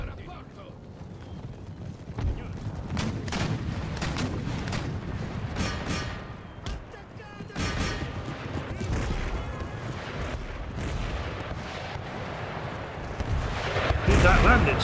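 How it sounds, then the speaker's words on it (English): Artillery fire and battle noise in Empire: Total War, with booming cannon blasts at a steady, irregular pace over a dense, continuous din of combat, loud and close, with a heavier surge near the end. "They've got artillery outside of the walls."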